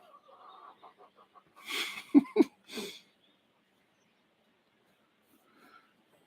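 Chickens give a short burst of several clucks, fairly close and moderately loud, with a few softer clucks before it and a faint one near the end.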